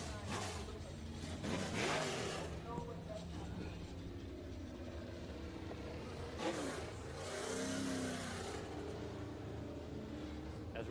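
IMCA Sport Mod race cars circle Bakersfield Speedway, their engines roaring in a continuous wash of noise with louder surges as cars pass by.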